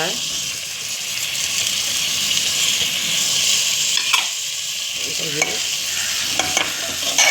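Moong and toor dal, with drumstick pods, are stirred and sautéed in a hot pan, producing a loud, continuous sizzle and scraping up close, with a few sharper clicks of the utensil.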